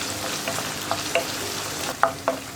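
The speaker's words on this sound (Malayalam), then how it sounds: "തേങ്ങക്കൊത്ത് ചേർക്കാണ്. തേങ്ങക്കൊത്തൊന്ന് ചൂടായി വരട്ടെ." Sliced coconut pieces frying in a hot pan, with a steady soft sizzle broken by several short stirring scrapes spaced through the sound, close and moderately loud with no voices.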